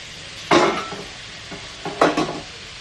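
Two short bursts of a spoon scraping and stirring dalia pulao in a pan, with a soft sizzle between them, close and fairly quiet.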